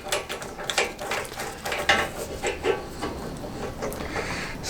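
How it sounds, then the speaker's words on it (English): A top nut is screwed down on a bushing and bearing press kit in a workshop, giving a steady run of close ratcheting clicks and grinding thread noise. "And then screw down the top nut."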